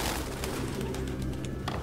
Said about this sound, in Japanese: なんでこんなに鳩がいっぱいいるの？